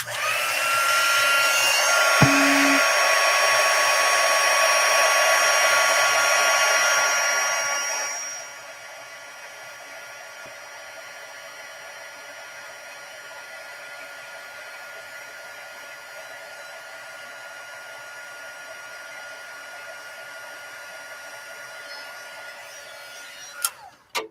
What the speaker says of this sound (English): All right, so I'm going to heat emboss this.